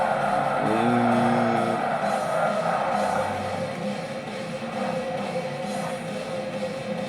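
A race car drives in the Forza Motorsport video game, a loud engine drone with a brief rising rev or tire squeal early on, then steady road roar over a faint crowd.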